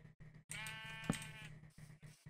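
Sheep in the Minecraft video game giving a single drawn-out, wavering bleat, fairly quiet and close, with soft game background before and after.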